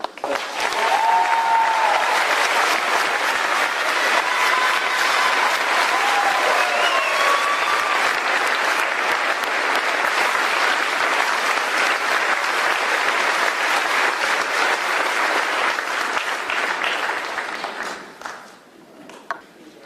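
A large crowd applauds loudly and steadily at the 2023 John Jay High School graduation ceremony, with a few whistles and cheers over nearly twenty seconds of clapping before it fades out at the end.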